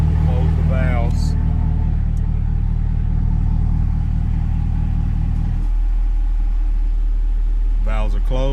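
A car with a Corsa cat-back exhaust idles after its exhaust valves close, a continuous low rumble that drops to a quieter, deeper drone partway through, with someone speaking briefly at the start and end.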